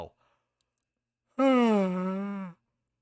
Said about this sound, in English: I know I give an obligatory yawn every time I record